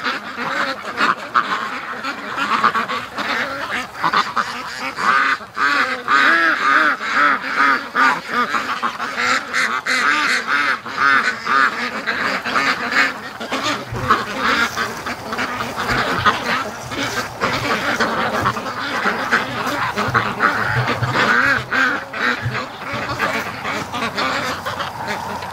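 A flock of free-range ducks and a goose in a barnyard quack and honk continuously in overlapping bursts, close and loud, with the chorus never settling over nearly half a minute.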